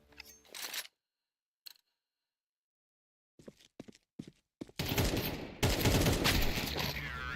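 Gunfire in a competitive shooter video game: a few sharp bursts, then silence, then scattered shots building into dense, loud sustained firing and explosion-like noise in the last seconds.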